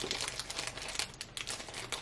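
A crinkly plastic package holding sunglasses is pulled and worked open by hand, giving quiet, close, irregular crackling and rustling with small sharp snaps.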